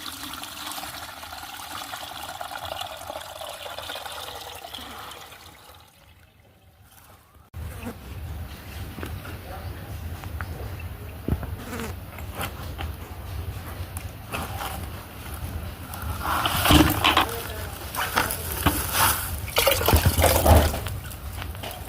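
Water from cow dung compost made with dung cakes drains through a plastic vegetable sack, a steady trickling and splashing that grows louder and more broken toward the end, with a brief quieter gap midway.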